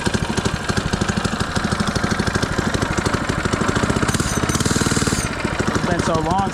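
An FRP GMB-100 minibike's small engine runs close and loud with a rapid, pulsing chatter, its beat quickening and roughening toward the end, with a brief wavering voice-like sound over the last second.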